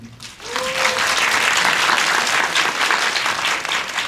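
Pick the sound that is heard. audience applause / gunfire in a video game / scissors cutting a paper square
audience applause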